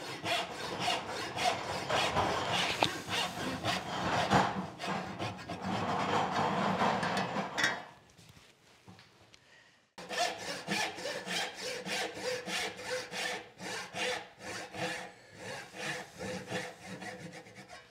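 A hand saw cuts a spline kerf in wood for faux dovetails, rhythmic rasping back-and-forth strokes close up, pausing briefly midway before the sawing resumes in quicker, even strokes.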